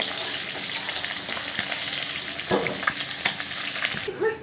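Hilsa fish sizzles in hot oil as the fried pieces are lifted out, a close, steady crackle broken by a few clinks and scrapes of the utensil.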